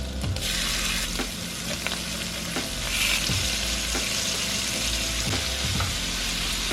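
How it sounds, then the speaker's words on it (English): Shrimp frying in butter with minced garlic for a low-sodium shrimp Alfredo, a steady close sizzle with recurring scrapes of a utensil stirring the pan, no talking. "when you're cooking your shrimps, you only want to cook a few at a time"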